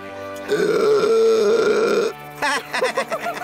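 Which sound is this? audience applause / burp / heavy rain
burp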